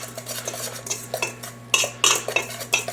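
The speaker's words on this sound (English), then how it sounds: "We want to take a wire whisk. Just going to whisk that all together." A wire whisk scrapes and clinks rapidly against a mixing bowl while blending dry chocolate cake ingredients, brisk close rhythmic strokes with a couple of louder knocks near the end.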